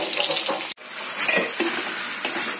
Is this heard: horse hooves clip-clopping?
no